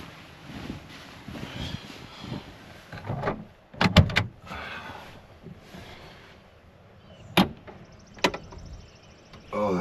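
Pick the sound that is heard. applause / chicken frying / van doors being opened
van doors being opened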